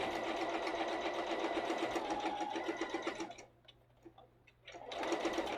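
A sewing machine stitches fabric held together with clips, a fast steady close-up whirring chatter that stops briefly for about a second, then starts again at full speed.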